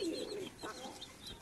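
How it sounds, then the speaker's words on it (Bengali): Pigeons come in to drink water and give soft cooing calls, one coo clearest at the start and then quieter murmurs, all faint and nearby in an otherwise calm setting. "আমার কবুতরগুলো পানি দিয়ে দেওয়ার সাথে সাথে একটা একটা করে চলে আসতেছে"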